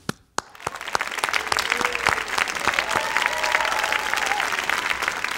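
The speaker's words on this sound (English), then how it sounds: "Let's congratulate them together from wherever you are watching from with a giant round of applause" Dense, sustained applause for a graduating engineering, technology and management class at the Oregon Tech commencement ceremony, rising after a few sharp opening claps and holding steady and loud, with faint crowd murmur underneath.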